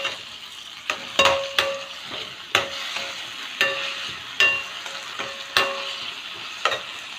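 Tomatoes fry in a pan with garlic and bulb onions under a soft sizzle, broken by repeated sharp stirring scrapes about once a second.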